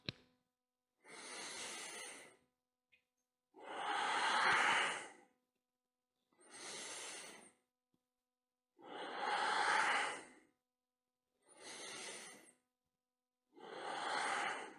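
Slow, deliberate breaths during a yoga session, six long airy inhales and exhales alternating with quiet pauses, close and fairly soft with no talking.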